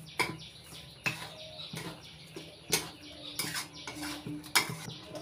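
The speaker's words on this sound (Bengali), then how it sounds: "এইভাবে নাড়াচাড়া করে চিনিটা গলিয়ে নেব" A utensil stirs sugar in a pan to melt it, irregular scrapes and clinks of metal against the pan surface, close but fairly quiet.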